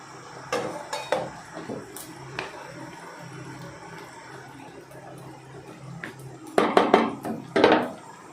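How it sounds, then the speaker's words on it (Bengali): Fried green banana kofta balls dropped one by one into a pot of boiling gravy, giving scattered clinks and soft knocks of utensil on pot, with a cluster of louder clatter near the end, no talking. "ভেজে রাখা বড়াগুলোকে আস্তে আস্তে ঝোলের মধ্যে দিয়ে দিলাম।"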